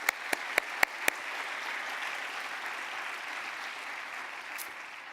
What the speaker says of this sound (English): Please join me in giving all of our volunteers a round of applause to